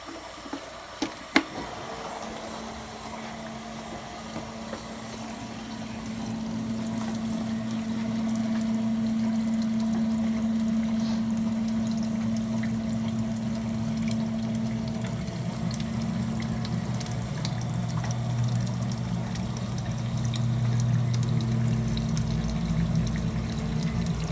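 Water drains steadily out of a 50-gallon home water heater, a continuous close rushing and gurgling flow with a low hum, preceded by a few clanks at the start.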